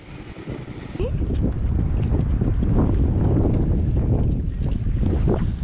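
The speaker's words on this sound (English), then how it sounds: "A bit windy." Steady wind buffeting the microphone on a Magnetic Island beach, a loud continuous roar with gusty rumbling throughout.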